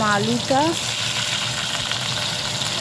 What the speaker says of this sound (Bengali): আলুগুলো ছেড়ে দিয়েছি, দিয়ে ভালো করে ভাজা ভাজা হবে